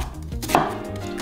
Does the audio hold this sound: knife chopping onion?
yes